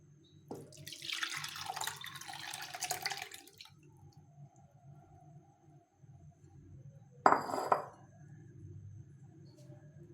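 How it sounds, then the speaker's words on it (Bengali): Milk poured into a container in a home kitchen while making yogurt: a few seconds of splashing liquid, a short pause, then a second brief pour, quiet and close. "এখন এই দুধটাকে এখানে ঢেলে দেবো"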